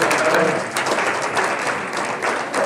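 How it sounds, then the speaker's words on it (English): An indoor audience at a county stock show hog show gives the judge a loud, steady round of applause with dense, sustained clapping. "Would y'all join me in a round of applause for our judge, Mr. Jeremy?"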